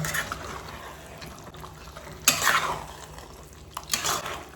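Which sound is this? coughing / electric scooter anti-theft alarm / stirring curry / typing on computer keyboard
stirring curry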